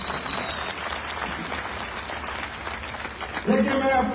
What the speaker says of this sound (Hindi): जोरदार तालियों से उनका स्वागत करते हैं